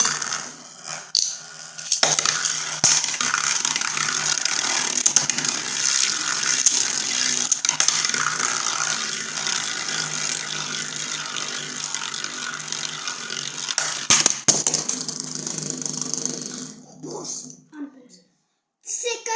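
Spinning battle tops named Air Wizard and Sword Dan whir and scrape continuously after launch, with sharp metallic clicks and knocks scattered through, fading out near the end.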